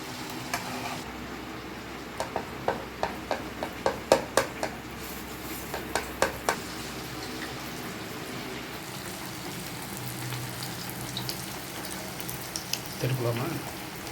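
Navadhanya vadai, a mixed-grain fritter made without onion, frying in hot oil with a steady broad sizzle and a run of sharp popping crackles near the middle, and a brief louder burst toward the end.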